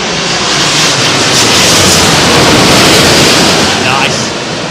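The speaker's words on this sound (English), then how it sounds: "Oman Air. 787 Dreamliner, big carbon wing on it." An Oman Air Boeing 787 Dreamliner landing at Heathrow gives a loud, broad roar that swells and holds throughout, with gusty wind noise mixed in.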